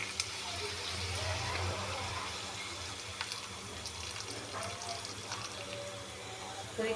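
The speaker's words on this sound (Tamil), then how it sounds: "சாம்பார் பொடியில் போட்டதுக்கப்புறம் கொஞ்சம் புளிக்கரைசல் கொஞ்சம் ஊற்றிக்கணும்." Tamarind water is poured into a pan of vegetable spiced with sambar powder, a soft steady trickle and gush of liquid heard faintly and close up throughout.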